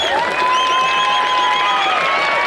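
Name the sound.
audience applause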